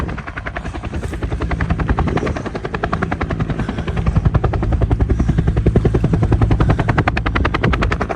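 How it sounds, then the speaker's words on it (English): Search and rescue helicopter flying overhead on a mountain trail, heard as a loud, close, continuous rotor chop with a fast steady thumping beat that lasts throughout and swells slightly toward the end. "Does anyone know if that's an SAR helicopter?"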